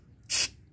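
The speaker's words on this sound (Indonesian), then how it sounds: "Oke teman-teman, semprotkan aja ke dalamnya." Spray cleaner is blasted from an aerosol can into a motorcycle's catalytic converter, giving one short, loud hissing burst of about a fifth of a second over a low background rumble.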